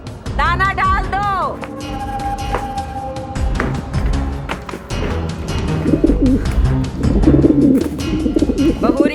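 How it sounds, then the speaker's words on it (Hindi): Pigeons coo in short warbling calls near the start, then a domestic scene carries on with taps, clatter and voices speaking over the sound. "कबूतर भूख के मारे गुटर गुटर कर रहे हैं"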